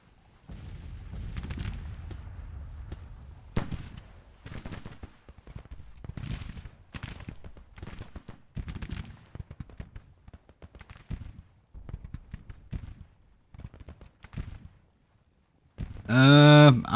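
Repeated gunshots from Civil War troops firing in the strategy game Grand Tactician: The Civil War, with sharp bursts of varying loudness coming at an irregular rhythm, and a loud burst near the end.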